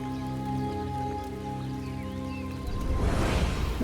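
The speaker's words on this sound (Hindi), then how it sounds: "अचानक बारिश शुरू हो गई" Rain begins suddenly, a broad wash of pattering drops swelling near the end over a steady background of music.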